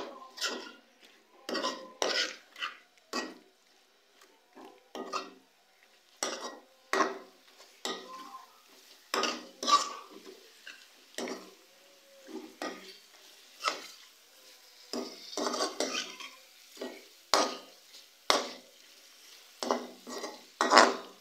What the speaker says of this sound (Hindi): मसालों को हम लोग अच्छी तरह से चिकन में मिक्स कर देंगे